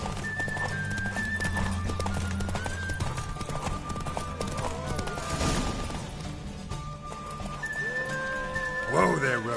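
A horse gallops in The Witcher 3 video game, its steady clip-clop running throughout with a neigh or whinny near the end, mixed under game music and ambient sound.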